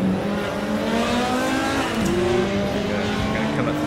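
Touring car legends racing at the old, narrow Watkins Glen circuit in Assetto Corsa, a dense pack of engines roaring and revving together with some tyre squeal, loud and continuous throughout.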